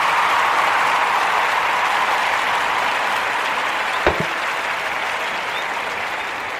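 A round of applause, steady dense clapping from a crowd that holds evenly and fades slightly toward the end, with one sharp knock partway through.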